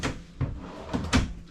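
A soft-close drawer in a 2020 Newmar Dutch Star motorhome kitchen gives a few soft knocks and slides, close and moderately loud.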